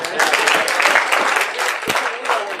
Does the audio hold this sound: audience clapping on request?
yes